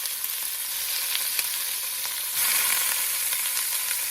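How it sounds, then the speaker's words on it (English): Beef browns for goulash in a hot pan, a close, steady hiss of sizzling fat with small crackles that swells louder partway through, with no voices. "Here I am making goulash. I need to brown the beef."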